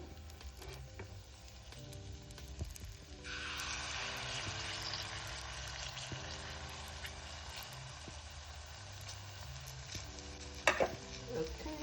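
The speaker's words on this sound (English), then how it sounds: "Okay, so allow them to fry." Banana fritters frying in hot oil for a Jamaican recipe give a steady, close sizzle that swells around the midpoint and carries on evenly under light kitchen clatter, with a brief louder clink near the end.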